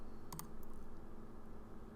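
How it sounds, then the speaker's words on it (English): Arrow keys pressed on a computer keyboard during design work in Sketch: a quick pair of faint clicks near the start, then only a soft steady background hum. "use the arrow keys here to drop it down"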